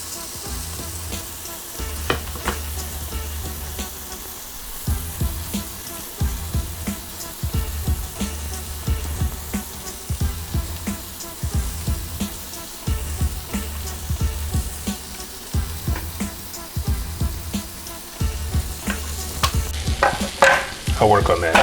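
Onions and peppers fry on a flat griddle for flank steak pinwheels on an Oklahoma Joe's. A steady close sizzle runs throughout, broken by repeated scraping and stirring strokes that grow louder near the end.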